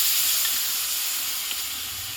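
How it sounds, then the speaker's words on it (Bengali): Spice paste frying with sour curd in a pan, a close, steady hissing sizzle that stays even and uninterrupted, with no speech. "এবার মশলাটা ভালোভাবে টক দইয়ের সঙ্গে কষিয়ে নেব"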